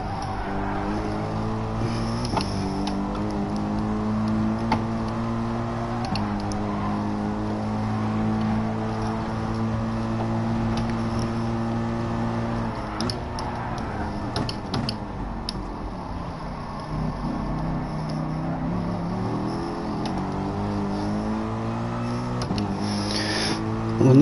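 Racing car engines in a video game race, a car running in a Nissan's slipstream: a steady, loud engine drone holds for the whole stretch, its pitch rising and falling with gear changes, and no talk over it.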